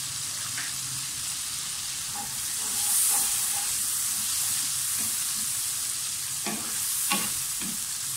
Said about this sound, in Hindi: प्याज थोड़ा थोड़ा सा फ्राई हो जाए साथ ही इसमें लहसुन अदरक का पेस्ट डाल दें